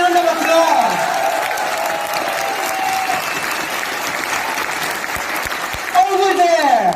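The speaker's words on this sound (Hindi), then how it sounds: "With a big round of applause." An audience at a product presentation for a health supplement breaks into a sustained round of applause lasting several seconds, fairly loud and even, with a presenter's voice heard at the start and end.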